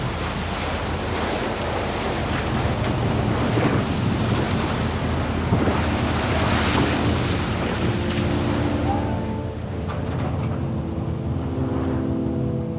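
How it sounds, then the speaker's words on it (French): Hurricane-force gusts near 160 km/h roar continuously as building-sized waves crash against a French fishing trawler, a loud, dense, unbroken wash of wind buffeting and surf with no clear voices. "80, 85 nœuds de vent sous rafale, près de 160 km/h, vague de la taille d'un immeuble, un ouragan."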